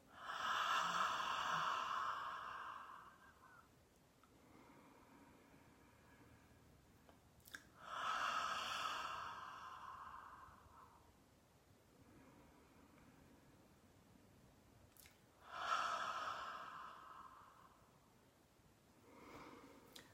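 Slow, deep breaths during a relaxation exercise, three long audible exhalations spaced several seconds apart with quiet pauses between, fairly soft and close.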